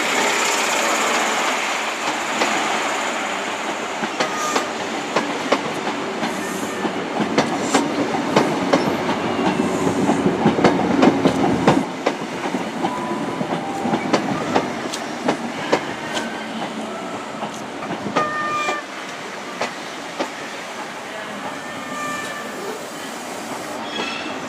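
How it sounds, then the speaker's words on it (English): A Great Western Railway service to Paignton from London Paddington departs Exeter St David's, its wheels clattering over rail joints with rising squeals as it pulls away, loud and close, then gradually fading. "departing now is the 1011 Great Western Railway service to Paignton from"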